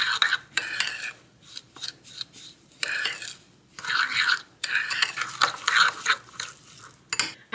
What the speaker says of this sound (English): Stir that together until you get a frosting-like consistency.